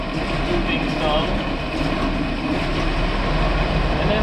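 A Rolls-Royce Phantom I engine idles steadily while its carburetor's low-speed jet is adjusted, giving a continuous low rumble and whir close by, with someone talking over it.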